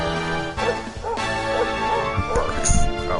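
A dog in the video game Dragon Quest XI gives a few yipping, whimpering barks over game music, with someone talking over them.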